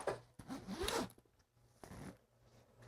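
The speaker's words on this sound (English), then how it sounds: "see how I had this before, like this, unzipping it" Zipper on a K&F Concept camera backpack being pulled open in a few quick rasping strokes, close and crisp, with short pauses between pulls and no talk.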